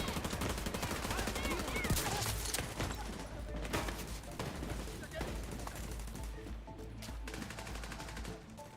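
Continuous rapid gunfire in The Division 2, dense automatic bursts and scattered shots running throughout, with someone talking over the shooting.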